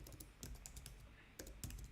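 Rapid typing on a computer keyboard while writing a prompt for an AI coding assistant, with close, crisp key clicks in uneven bursts and a short pause midway.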